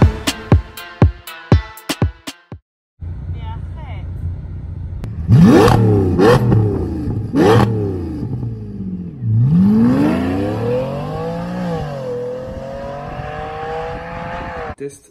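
A W12 car engine revs repeatedly in loud rising and falling bursts close by, holding a sustained high rev near the end, with talk underneath.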